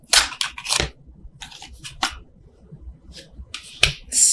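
Tarot cards shuffled overhand by hand, a string of sharp, irregular crisp snaps and riffles close up, each burst short, separated by brief quiet gaps over a few seconds.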